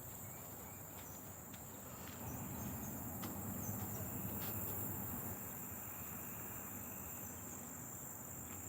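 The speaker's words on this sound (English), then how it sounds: "Enjoy the cicadas and the sound of the evening in Tennessee." Steady high insect chorus, cicadas or crickets, fills a quiet Tennessee evening, continuous and fairly faint with a thin constant whine running throughout.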